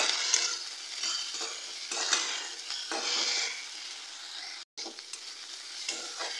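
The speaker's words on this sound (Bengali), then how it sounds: "এবার 1 চামচ আদা রসুনের পেস্ট আমি দিয়ে দিলাম। কাঁচা গন্ধটা না দেওয়া অবধি ফ্রাই করে নেব।" Ginger garlic paste frying with onions in a pan of oil, a bright continuous sizzle with spatula stirring strokes swelling and fading, fairly close, with a brief dropout midway and no speech.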